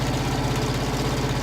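A diesel auxiliary heat and air unit running on a truck, a steady close mechanical hum with an even low throb and constant vibration, no change throughout.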